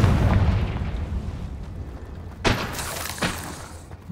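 Confringo spell explosion in the Hogwarts Legacy video game: a sharp burst followed by a booming blast and a second, smaller crack, over a rumbling low game soundscape.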